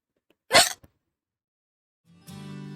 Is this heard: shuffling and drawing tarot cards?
no